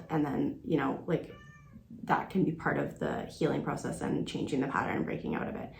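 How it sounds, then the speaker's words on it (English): House cats meow in the background, one clear meow sounding in a brief gap while a person talks steadily over the rest of the clip. "excuse if you hear my cats in the background."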